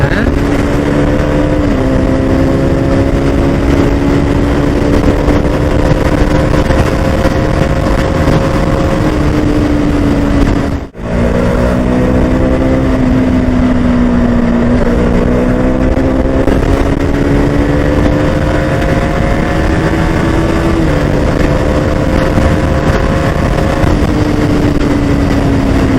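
A KTM Duke 200 BS3 motorcycle engine drones loudly and continuously while being ridden, its pitch rising and falling through gear changes, with a brief dropout midway.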